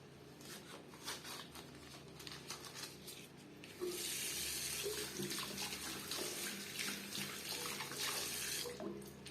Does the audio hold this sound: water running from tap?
yes